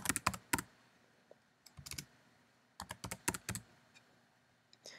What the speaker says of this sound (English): From there, go to the right-hand corner and type in memory clean.